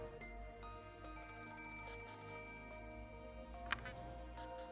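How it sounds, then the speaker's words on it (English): A telephone rings faintly in a scene of the Umineko visual novel game, a thin repeating electronic ring set under soft background music. "That's a phone, not an alarm."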